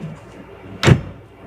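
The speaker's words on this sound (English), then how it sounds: "Rather than fitting several cupboard doors, one big massive door, so you open it and you can see everything that's in there in one go." The large overhead cupboard door in a Bailey Alora motorhome makes a single short, solid thud as it opens, set against a quiet interior.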